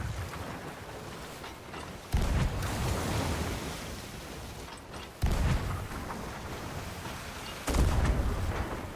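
In a Sea of Thieves pirate battle at sea, deep booming cannon or gun blasts go off three times at a few-second intervals, each followed by a long rumbling roar over constant wind and water noise.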